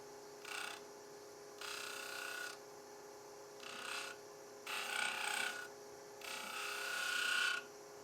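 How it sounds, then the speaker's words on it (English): A skew chisel cuts a spinning purpleheart wood box on a lathe in several separate rasping passes, each a few seconds long, close and fairly loud above a steady motor hum. "I'm going to be brave and try it with the skew chisel first."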